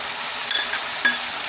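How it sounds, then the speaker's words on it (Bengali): Onion and garlic paste frying in a hot pan, with a loud, close, hissing sizzle that stays steady throughout and a couple of faint utensil clinks. "এবার এই মুহূর্তে আমি পেঁয়াজ বাটা দিয়ে দিচ্ছি, রসুন বাটা,"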